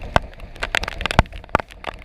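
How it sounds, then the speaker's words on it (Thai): Rain falls on the Samae San seashore during a bottom-fishing outing, heard as irregular, close, crackling patters and sharp drop taps scattered unevenly throughout. "ฝนตกครับ"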